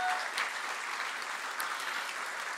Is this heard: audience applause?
yes